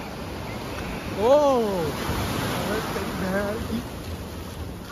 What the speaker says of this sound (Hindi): लहर बहुत तेज आ रही है